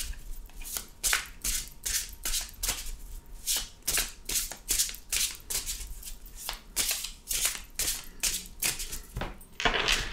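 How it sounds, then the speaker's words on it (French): Tarot cards riffled and shuffled close by in a quick, steady run of crisp flutters and slaps, repeating evenly about every half second, with no voices. "On va couper et après, je vais disposer les cartes."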